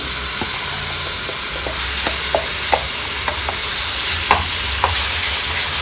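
Date paste stirred in melted ghee in a frying pan over low heat, a steady soft sizzle with repeated light scraping strokes of the spoon at an unhurried rhythm, no talking.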